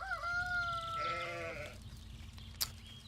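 Sheep bleat in the farming video game Force of Nature, a few wavering cries in quick succession near the start, then quieter, with a brief sharp click near the end and no speech.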